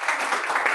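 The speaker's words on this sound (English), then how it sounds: "Let's give Tiffany another round of applause." An audience claps for Tiffany in a brief, steady burst of applause.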